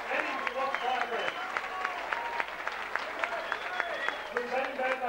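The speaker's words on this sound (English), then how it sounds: "Come on, give Housein a big round of applause." Crowd applause at a fight event for Housein Mourad versus Tony Antoniou, steady clapping from a sizeable audience with talking voices over it throughout.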